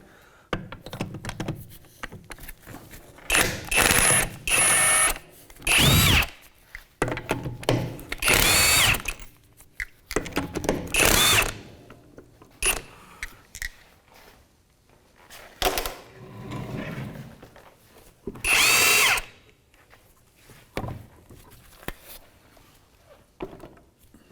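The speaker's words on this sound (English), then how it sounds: "I'm going to go ahead and use a 17mm socket" A power tool fitted with a 17mm socket removes the lug nuts from the rear wheel of a 2007-2013 Mitsubishi Outlander. It runs in repeated short, loud bursts of whirring and rattling, separated by clunks and pauses.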